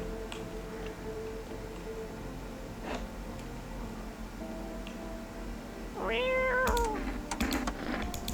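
A single cat meow rises and falls in the video game No I'm Not Human, faint and short, over quiet background ambience with scattered clicks.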